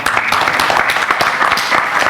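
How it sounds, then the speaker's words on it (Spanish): Audience applause for panelists closing a digital transformation seminar session, a dense, steady patter of many hands clapping throughout, fairly loud and close, with no voice on top. "Un aplauso para todos ustedes."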